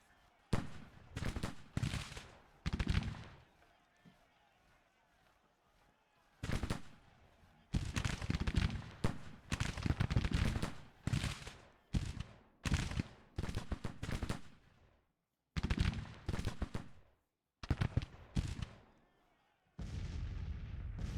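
Booming artillery and crackling musket volleys from a Grand Tactician: The Civil War battle come in dense bursts separated by brief quiet gaps, loud and close throughout.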